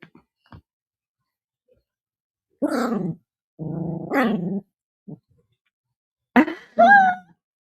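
A pet dog growls and grumbles in a quiet room late at night, several short, close, low rumbling bursts with pauses between them, one rising into a whiny groan near the end.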